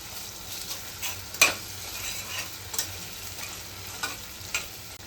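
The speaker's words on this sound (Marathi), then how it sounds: "कांदा आपला फ्राय झाला आहे, त्याच्यामध्ये आपण आलं लसूणची पेस्ट टाकून घेऊ." Ginger garlic paste fries with onions in a pan, a steady close sizzle broken by a few soft stirring scrapes and clicks.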